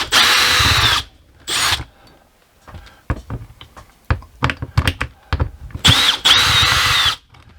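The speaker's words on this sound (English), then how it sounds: "So let me get all these screws out of this clamp ring." Power drill spinning out screws from the clamp ring of an RV window, with short loud bursts at the start and end and scattered clicks and clatters of screws and handling in between.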